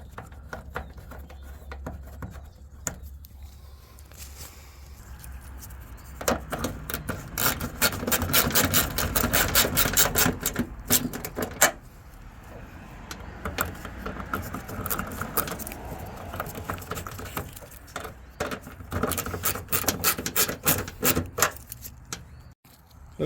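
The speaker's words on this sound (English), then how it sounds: "I'm just putting all these little 8mm bolts right back down through the front here" Small 8mm bolts handled and fitted into the front of a 5.7L HEMI engine on a 2005 RAM 1500 4x4: repeated metallic clinks and rattles in bursts, close up, with brief pauses between them.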